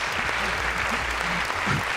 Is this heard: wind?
no